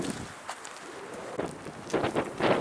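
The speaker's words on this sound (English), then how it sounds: "it is very windy today." Wind buffets a microphone in gusty bursts, rumbling and rushing, strongest toward the end, on a cold day on the Manistee River Trail in Michigan.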